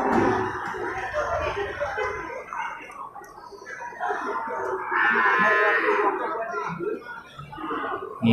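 Angus cattle low and moo in a noisy barn-like setting, with people talking throughout and the animals' calls rising over the chatter.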